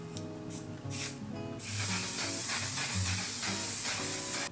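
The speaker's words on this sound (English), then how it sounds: "we're gonna spray it" Makeup setting spray gives a continuous spraying hiss that starts partway through and keeps going steadily, with soft music playing underneath.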